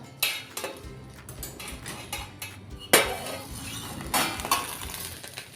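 Metal pots, pans and a lid clinking and clattering on a stovetop while pomfret cooks in banana leaf over a low flame, with several sharp knocks and scrapes scattered through the stretch and no voices.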